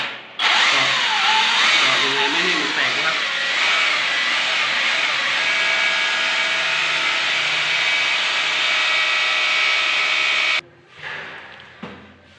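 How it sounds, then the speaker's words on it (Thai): An electric drill bores a hole through ceramic wall tile while a water heater is being installed, giving a loud, continuous grinding whine for about ten seconds before cutting off, followed by a few faint rattles. "เวลาเราเจาะอ่าเจาะรูตรงกระเบื้องนะครับ"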